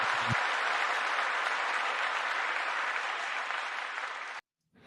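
Canned applause triggered by a button during a live stream, a dense, even burst of crowd clapping that holds steady for over four seconds and then cuts off abruptly.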